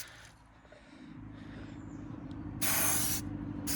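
An aerosol can sprays a first light coat of paint onto steel wheels at close range, giving a steady hiss that builds over a low rumble and ends in a brighter burst; no voices.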